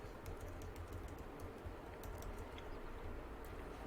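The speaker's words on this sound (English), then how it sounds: "instead I'm going to type in a color with it" Faint, quick clicks of typing on a computer keyboard come in an uneven run over a low steady hum.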